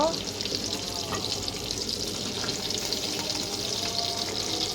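Fish fry sizzling in a pan of hot oil, a steady dense crackle throughout, close and fairly loud, with a little faint clatter mixed in.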